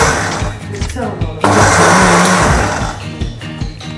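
A mixer grinder whirs as it grinds millet with cardamom and jaggery for millet laddu, with short motor bursts and a longer run, while voices talk over the machine.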